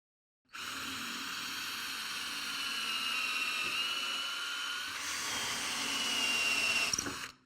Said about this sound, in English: this is where I will put my drill holes